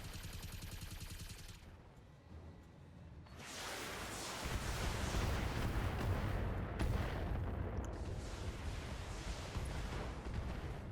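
Turret gunfire in the mech game Thorium Mercs, heavy sustained cannon and artillery-like firing that drops briefly around two seconds, then surges back louder and roars steadily to the end.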